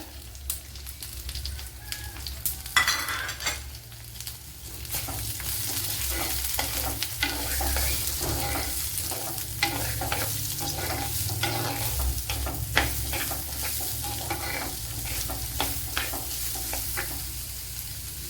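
Chopped onion for beetroot thoran sizzles steadily in a hot pan, with stirring scrapes and clinks on top of the frying noise throughout, close and with no voices.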